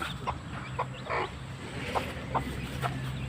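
Hens cluck in short, scattered calls around newly hatched chicks, set against a steady farmyard background hum in a rural yard.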